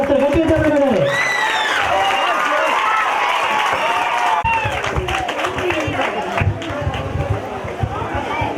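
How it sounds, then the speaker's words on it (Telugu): Students at a retirement function clap loudly and steadily, a dense crowd applause with cheering voices mixed in, continuing throughout with shifting intensity. "స్టూడెంట్స్ అందరూ చెప్తారు, గట్టిగా చప్పట్లు కొట్టారు."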